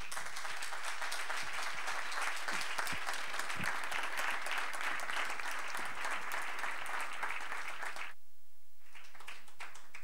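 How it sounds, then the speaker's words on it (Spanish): Audience applause for round-table speakers at an anniversary event for a regional magazine, a thick, sustained clapping that fills about eight seconds, then cuts off abruptly before a brief return. "que yo creo que se han ganado un aplauso"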